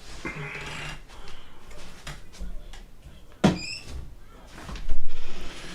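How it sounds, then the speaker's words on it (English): An indoor door swings shut with a sharp close and latch click midway, preceded by faint rustling and movement and followed by a brief louder shuffle. "let me shut this door."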